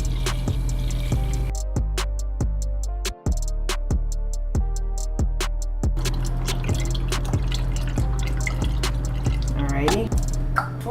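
Porter wort for a one-gallon homebrew batch is poured into a sanitized fermenter, a continuous liquid splashing and dripping against a steady low hum, with irregular knocks throughout.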